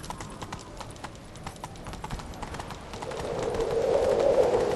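In the video game The Witcher 3, steady hoofbeats of a galloping horse drum in a quick rhythm, joined near the end by a rising whoosh of wind or movement.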